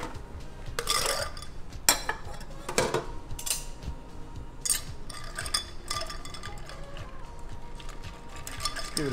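Navy Strength gin being stirred over ice in a mixing glass, with clinking and scraping of ice and a bar spoon in several separate bursts. The bursts are moderately loud and close, with brief quiet gaps between them and no talking.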